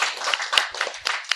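A small audience gives a short burst of applause at a game show, brisk close clapping from a handful of people, faint and brief.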